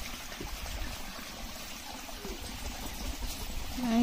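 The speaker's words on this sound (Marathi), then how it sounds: "आम्ही आता शेताला पाणी सोडलेलं आहे" Irrigation water running into a green village farm field, a low steady trickling flow with faint background sounds, swelling slightly louder at the end.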